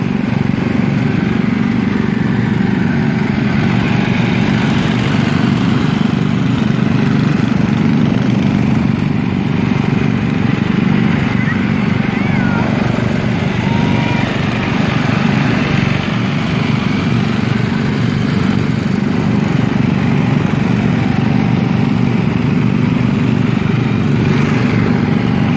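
Two rear engine riding lawn mowers, a 1975 and a 1967 model, run steadily together, a loud continuous mechanical drone with rattling texture that holds without break throughout.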